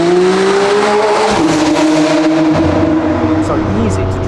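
A 720hp Novitec McLaren Artura with a race exhaust system accelerates hard, its loud, close engine note climbing through revs, dropping at a shift, then pulling again with a faint tire squeal.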